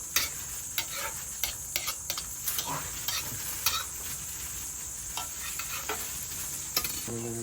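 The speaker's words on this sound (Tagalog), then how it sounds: "ipiprituhin natin yung longganisa" Longganisa sausage frying in a pan at breakfast, a steady sizzle under repeated clinks and scrapes of a utensil stirring, close and fairly quiet, with no talking.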